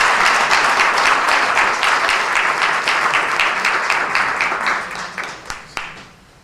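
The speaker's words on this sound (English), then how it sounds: "Let's give another round of applause." Audience applause at a Caribbean leadership breakfast and recognition ceremony in Nassau County, a dense sustained roomful of clapping that thins out near the end into a few scattered final claps.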